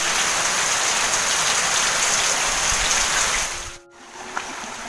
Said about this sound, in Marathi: हे बघा पाणी कसं वाहतं हे ना